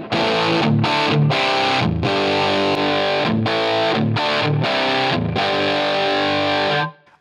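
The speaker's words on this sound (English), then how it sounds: "Now we can compare that to the 57." Heavily distorted electric guitar tone from a Line 6 Helix using the 57 microphone model, loud strummed chords in choppy rhythmic bursts with brief silences, ending abruptly; no talking.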